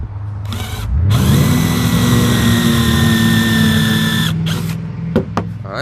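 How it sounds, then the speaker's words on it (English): A power drill bores a small countersink into wood for a simple squirrel feeder. It spins up about a second in and holds a loud, steady whine for roughly three seconds, then winds down, followed by a few light knocks. "we'll go ahead and drill a little countersink into that too real quick"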